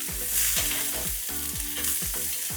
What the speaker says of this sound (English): We'll add 3 onions that are sliced and fry them golden brown.